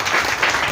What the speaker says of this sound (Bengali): তাই আমরা পরিশেষে সবাইকে হাততালির মাধ্যমে অভিনন্দন জানাই